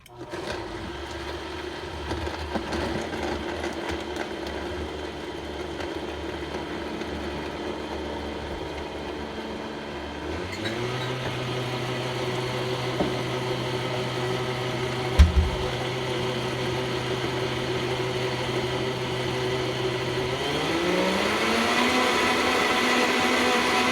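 A Vitamix blender runs a strawberry, spinach and cayenne smoothie, a steady motor whir that steps up in speed partway through and again near the end, close and continuous.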